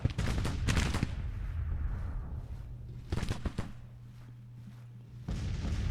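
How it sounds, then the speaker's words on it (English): Rifle volleys crackle in a Civil War battle game, with two dense bursts of overlapping shots separated by a quieter stretch of low rumble, loud and close. "That rifle fire starting to tell"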